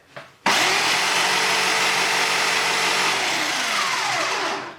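A power saw running nonstop with its trigger clamped on, starting abruptly after a brief lead-in and holding a loud, steady, high-pitched whine close by, with a slight drop in pitch before fading at the end.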